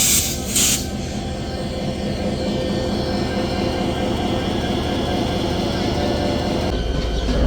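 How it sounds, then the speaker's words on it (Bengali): The Barendra Express pulls into Akkelpur station with a continuous low rumble of wheels and carriages. A squeal of wheels and rail noise comes just as it comes to a stop, and voices can be heard faintly underneath. "ট্রেনটি এসে দাঁড়ালো আক্কেলপুরে"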